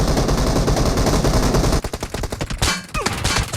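P90 automatic fire in a video game team deathmatch, a loud continuous stream of rapid shots breaking into shorter bursts, with other game noise around it.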